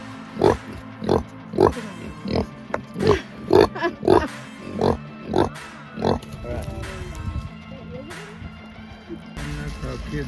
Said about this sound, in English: It's a pig. It's a real pig.